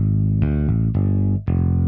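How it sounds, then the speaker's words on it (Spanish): A bass line run through an effects chain with EQ boost, clipper and limiter in Reaper: several thick, saturated sustained notes changing pitch, loud and dense with a distorted edge. "Vamos a escuchar el bajo ya con la cadena de efectos."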